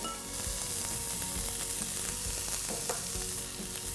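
Yellow and red bell peppers sautéing in a pan, a close, steady sizzle with light stirring and scraping sounds, no voices.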